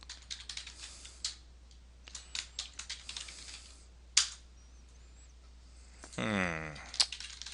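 Keys clatter on a computer keyboard as a password is typed, in quick irregular clusters of clicks that are close but fairly quiet, with one sharper tap and a short mechanical whir near the end.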